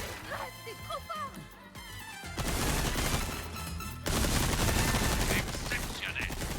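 Rapid gunfire from Leon's gun in the Resident Evil 4 Remake video game, dense loud bursts layered with crashes and game noise, with a voice talking over the opening moments.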